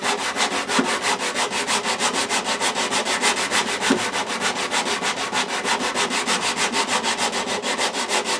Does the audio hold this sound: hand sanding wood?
yes